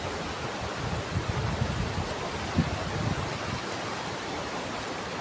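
Strong rushing river water fills the clip with a dense, continuous roar, close by, with a few faint bumps and no speech.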